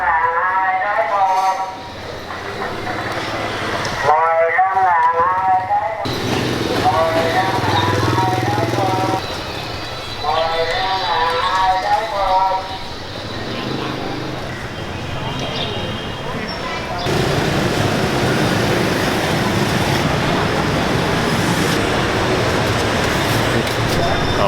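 Motorbikes ride past a street food shop in Vietnam, their engines droning steadily in the background while someone talks over them for most of the stretch, with the traffic swelling louder near the end.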